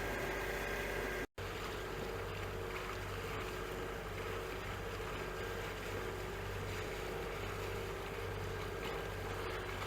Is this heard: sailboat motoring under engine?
yes